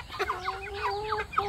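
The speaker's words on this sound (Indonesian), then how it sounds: "Tengok ayam ni manja ni ayam ni." An African chicken clucks repeatedly up close, a run of short, soft, rising clucks in quick succession.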